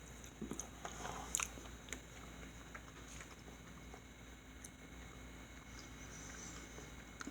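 Someone quietly chews and crunches Jollibee food at close range, with a few crisp bites near the start followed by soft, steady mastication and no talking.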